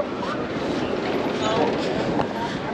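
Beach tram in Ocean City, Maryland passing by, a loud, steady broadband rumble and hiss of wheels and motion with some faint rattling, continuous throughout without distinct voices.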